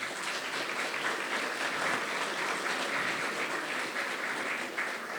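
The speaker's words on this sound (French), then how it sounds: "qu'on applaudit très très fort." Steady, dense applause from a large audience at an eloquence tournament heat, greeting a student contestant; sustained and even throughout with no talk over it.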